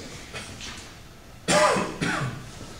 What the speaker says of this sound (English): this cough is almost gone